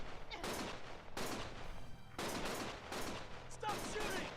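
Gunfire in a video game plays as dense, loud volleys of rapid shots in several bursts with brief pauses, and faint voices mix underneath.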